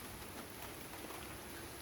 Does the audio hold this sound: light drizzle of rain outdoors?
yes